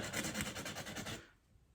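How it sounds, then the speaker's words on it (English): Fine sandpaper rubs along the scale of a Victorinox knife in quick repeated back-and-forth rasping strokes, close and fairly quiet, then stops abruptly. "Got some fine sandpaper here. Just gonna kind of run this along here. Smooth it out just a little bit."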